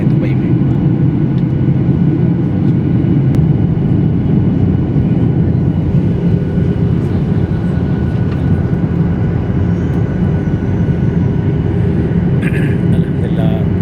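Inside an airplane cabin on the landing approach to Dubai, a loud, constant low engine roar and airflow rumble fills the space without letup, with faint cabin clicks and rustles on top.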